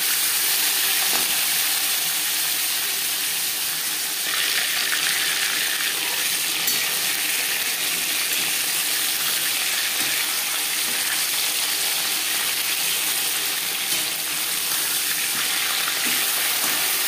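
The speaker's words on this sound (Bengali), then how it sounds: "মাছ আমি একবারেই ভেজে নেব।" Fish pieces frying in a hot wok for a potato fish curry, giving a steady, dense crackling sizzle that fills the whole stretch with no talk.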